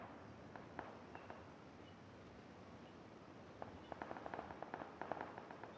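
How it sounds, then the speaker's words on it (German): Distant gunfire in the battle royale game PUBG, with scattered faint cracks early on, then a denser burst of sharp shots near the end over a low, quiet background hiss. "Ich höre Schüsse."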